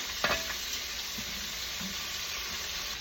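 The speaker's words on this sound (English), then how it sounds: "that's why I'm frying them at home." Chicken livers fry in a pan at home, giving a steady, close broadband sizzle throughout with a brief louder pop near the start and a few faint clinks.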